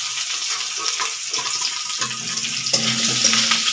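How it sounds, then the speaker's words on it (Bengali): Potatoes fry in oil in a kadai, giving a continuous bright hissing sizzle with low clattering bumps as the pieces settle and shift. "তেল দিয়ে এই আলুগুলোকে একটুখানি নুন হলুদ দিয়ে ভেজে নেব।"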